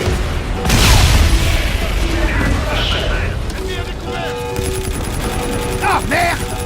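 Gunfire and explosions in the video game Call of Duty Infinite Warfare, a deep boom followed by rattling bursts and mechanical clatter amid a dense, noisy battle mix, with voices speaking through it.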